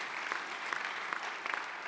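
Steady audience applause at a veterans' organization business session, a dense wash of clapping from many hands heard throughout without any talk.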